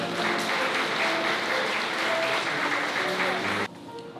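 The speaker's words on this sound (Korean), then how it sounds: "여러분 두 분께 축복의 박수 부탁드립니다" Sustained applause from a wedding ceremony crowd, steady and dense clapping for several seconds before cutting off abruptly near the end.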